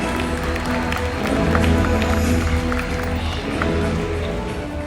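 Crowd applause in a stadium during a SeaWorld orca show, a broad, continuous wash of clapping and crowd noise with water and music under it, steady and moderately loud throughout.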